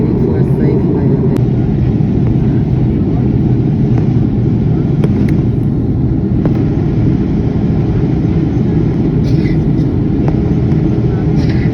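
A passenger jet comes in to land, heard from inside the cabin as a constant low roar of engine and airflow. A few faint clicks and knocks rise over the drone.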